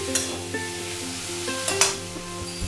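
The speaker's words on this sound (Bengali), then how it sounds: "দেখো আমার একটু কষানো হয়ে গেছে।" Chalta chutney sautéing in a pan, a soft continuous sizzle with a couple of brief stirring scrapes, close and moderately quiet.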